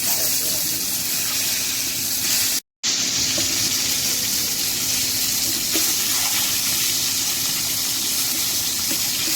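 Rohu fish pieces frying in a pan of oil, a steady dense sizzle running close and even throughout, broken by one brief silent gap near the start.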